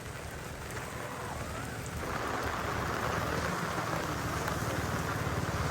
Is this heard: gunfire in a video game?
no